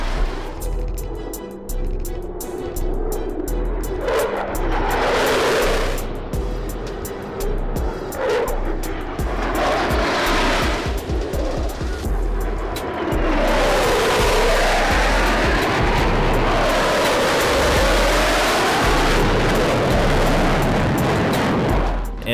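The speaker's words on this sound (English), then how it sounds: "The F-35 Lightning II is a family of fifth-generation multi-role fighters." An F-35 Lightning II stealth fighter roars past at an air show, a loud jet rumble swelling and receding in sweeping passes over crackling engine noise.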